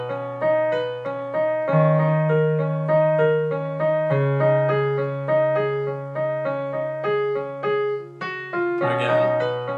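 Solo piano plays a song with both hands, a steady repeating melody over sustained bass notes, close and clear, no voices.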